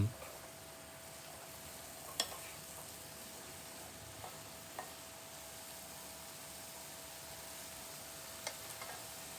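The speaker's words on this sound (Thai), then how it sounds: "แล้วจึงนำดอกขจรมาผัดรวมกัน พร้อมกับพริกสด ผัดและคนให้เข้ากัน" A vegetarian protein stir-fried with sesbania flowers and fresh chili makes a quiet, steady sizzle in the pan, with a few sharp clicks of the spatula scattered through it.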